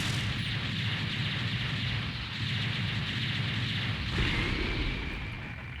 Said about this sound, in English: Ah, these explosions are so much faster than X3